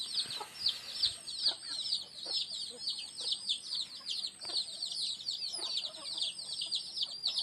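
Fighting-cock roosters of a Thai game-fowl breed cluck and crow in a steady stream of overlapping calls, close by, with other bird chirps mixed in and no talking.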